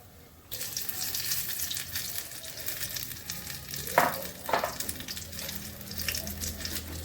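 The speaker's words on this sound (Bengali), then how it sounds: "এবার আমি ফুলকপিগুলো ভেজে নিচ্ছি।" Cauliflower pakoras frying in hot oil, a steady close crackling sizzle that starts abruptly and continues throughout, with a couple of brief louder spatters midway.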